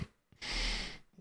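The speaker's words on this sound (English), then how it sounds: "sorry, I had a cough" A single close cough, a short harsh burst of breath with a sharp catch before it, heard alone with no talk.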